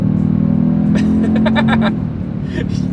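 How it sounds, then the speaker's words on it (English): A 2024 Toyota Tundra Limited twin-turbo V6 pickup truck drones loudly from the cabin as it accelerates hard, its engine tone steady then dropping away, with excited voices speaking over it. "That is a heck of an acceleration for a full-size pickup truck."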